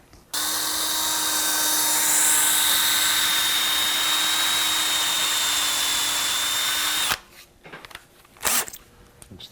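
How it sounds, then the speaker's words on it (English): Power drill boring a small wire hole through the body of a Michael Tobias (MTD) bass guitar for the bridge ground, a steady high whine running about seven seconds, close and loud, then stopping into brief handling clatter. "we have to drill the wormhole for the bridge ground."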